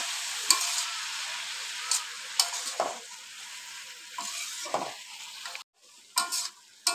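Spices being stirred into snake gourd (chichinga) frying in a pan: a steady sizzle broken by repeated scraping strokes of a spatula, close and fairly loud, with a brief drop near the end.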